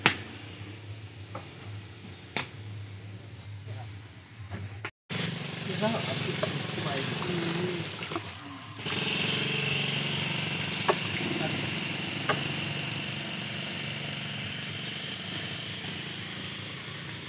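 A motorised trolley hauls fertilizer through a Bengali village, its engine chugging continuously at moderate distance while someone talks over it throughout.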